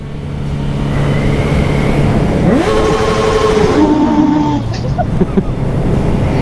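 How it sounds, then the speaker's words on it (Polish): A car exhaust revs up loudly, engine pitch climbing and falling, then settling back to idle nearby. "fajny masz wydech"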